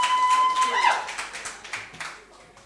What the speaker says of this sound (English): Big round of applause, people.